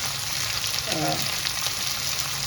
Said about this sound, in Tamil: இப்போ எண்ணெயில் பொறிஞ்சு வருதுன்னு பாருங்கள்